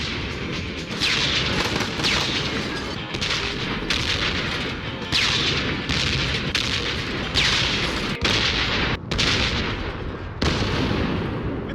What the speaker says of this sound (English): There is exactly one explosion sound effect that's used for everything across the entire game.